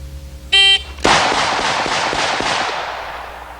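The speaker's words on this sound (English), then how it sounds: "and we'll come up from the low ready position, fire 6 shots." A 460 Rowland carbine fires six quick gunshots in a rapid string, loud and close, with each crack ringing and blending into the next as the burst decays, preceded by a short electronic shot-timer beep.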